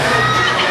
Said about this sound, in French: Je vous demande de faire un tonnerre d'applaudissements à Arnaud Dauphinet.